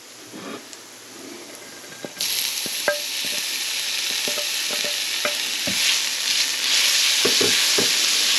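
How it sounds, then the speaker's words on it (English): Vegetables hit a hot pan for a shrimp and bok choy glass-noodle stir fry, bursting into a loud, building sizzle after a quieter start, with frequent sharp spatula clicks and scrapes close by, no talking. "So you want to saute all your veggie first, and then your protein, and then your noodles."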